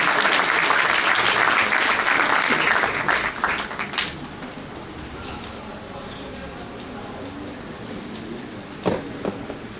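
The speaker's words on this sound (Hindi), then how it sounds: "तालियों से स्वागत करें।" An audience at a mushaira claps in a dense burst of applause to welcome the host, loud at first and then thinning and fading, with talk over it later and a brief clatter near the end.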